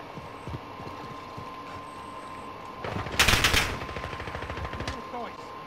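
Automatic gunfire in Call of Duty: Modern Warfare, a rapid burst of shots that swells to a loud peak midway, set against a steady game background hum, with scattered lighter thuds and faint in-game voice chatter.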